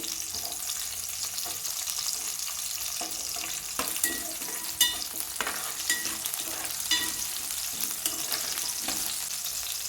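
Green chillies and garlic sizzle steadily in hot oil in a pan for a Telugu gongura pickle with dried fish, with scattered sharp crackles and pops over a continuous frying hiss and no talking.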